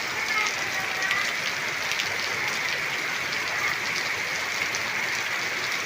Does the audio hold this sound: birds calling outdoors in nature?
no